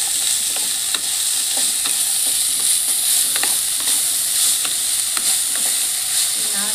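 Semai pulao, vermicelli cooked like pulao, stirred in a pan after salt goes in, with a steady bright sizzle and repeated soft scraping strokes of the spoon throughout.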